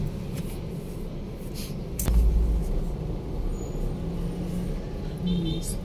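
Heavy road traffic on the way to Pasay: a steady rumble of cars, buses and trucks, with a sharp hiss like an air brake near the middle and brief faint horn-like tones later.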